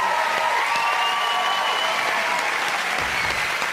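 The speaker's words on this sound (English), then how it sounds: "I think we deserve a little round of applause" An X Factor studio audience in 2004 breaks into steady applause, a dense and even wash of clapping with faint cheering that holds throughout.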